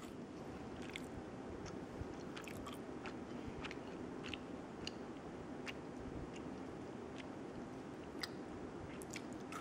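Close, quiet chewing and biting of a snack that tastes like a Twizzler mixed with a cookie, with soft repeated crunches and ticks spread over a steady low background and no talking.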